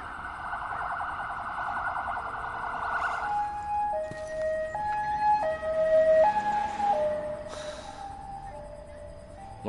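An ambulance siren in the video game Firewall sounds loudly, starting with a steady buzzing tone, then switching to stepped two-tone wails that rise and fall, prominent over a low background rumble without speech.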